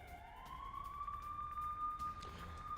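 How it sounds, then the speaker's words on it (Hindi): An air raid siren wails in Srinagar, a single rising tone that climbs and then holds steady, faint and distant over background hum. "और अभी भी क्या श्रीनगर में एयर रेड सायरन बज रहे हैं?"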